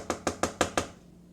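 A good kitchen knife chopping through a sticky, syrup-soaked tobacco plug: five quick, evenly spaced sharp taps close by, then quiet.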